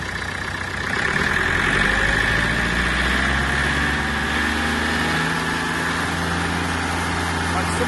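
Mitsubishi MT-26 Japanese mini tractor with a diesel engine, idling close and steady, then rising slightly in pitch and loudness as the throttle is opened. Its even, rumbling drone carries through, with someone talking over it.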